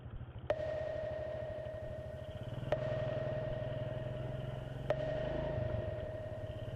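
A Kadiri Chunlan 125 motorcycle on a road test rides along with a steady, low engine drone, faint and even, broken by a few sharp clicks.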